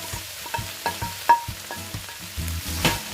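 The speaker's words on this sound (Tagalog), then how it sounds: "let's just fry a little bit" Chicken and smoked tinapa fish flakes frying in a pan, a soft continuous sizzle broken by repeated scraping stirs of a utensil, close and fairly quiet with no talking.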